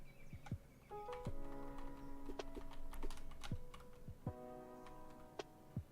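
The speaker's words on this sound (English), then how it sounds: "That's a Mac keyboard." Someone types on a Mac keyboard in sparse clicks and taps, fairly faint, while sounds from a Roblox shooting game ring out, with tonal chimes and sharp hits.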